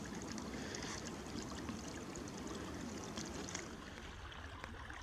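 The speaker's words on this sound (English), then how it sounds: "The creek sure has a pretty sound to it." A woodland creek flows steadily at close range, a continuous soft rush and babble of water with no voices over it.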